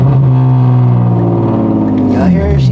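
A BMW E36 engine idles and revs steadily up close, a low droning roar that rises in pitch toward the end.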